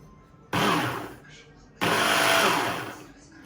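Tefal Optichef 800-watt hand blender whirring in two close bursts, each about a second long, separated by a short pause, with no talk over it.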